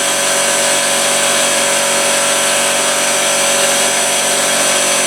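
A CNC face mill cutting at 3,000 RPM with a 10-inch-per-minute feed gives off a loud, steady, unbroken machining roar throughout, with no voices.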